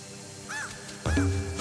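A bird caws in the Luigi's Mansion 3 video game, two short harsh calls about half a second apart, fairly close, over a low game hum with no talking.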